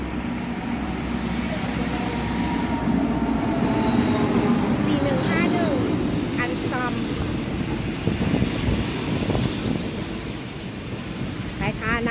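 A Thai passenger train rumbling steadily along the rails with a continuous low roar, faint squeals and clatter, and people talking in the background aboard a crowded Monday morning train.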